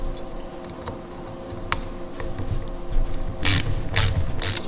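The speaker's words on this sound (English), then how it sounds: "we're going to get after these 8mm side bolts" A ratchet working on 8mm side bolts, faint irregular clicks and mechanical ticks over a low hum, with a few sharper scraping bursts near the end.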